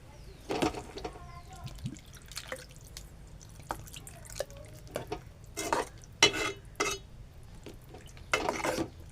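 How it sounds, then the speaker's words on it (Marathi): Water poured into a pan of cooking mushrooms, followed by intermittent splashes, drips and stirring clatter with faint sizzling, close and fairly quiet. "आपण आता ह्याच्यात पाणी ॲड करू."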